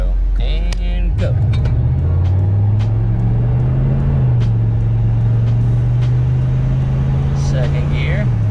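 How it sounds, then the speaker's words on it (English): A 6.5 diesel dually pickup pulls away from a stop after a PCM tune, its engine note rising in a loud, close, droning climb through the gears, with a person talking over it. "Alright, dirty dually from zero and go."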